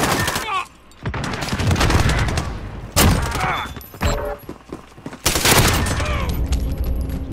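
Bizon submachine gun firing in a video game, rapid automatic bursts in several loud spurts separated by short pauses, with a player talking between volleys.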